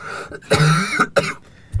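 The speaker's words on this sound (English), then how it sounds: "Sorry, I'm going to cough." A couple of throaty coughs close to the listener, harsh bursts with brief pauses between them.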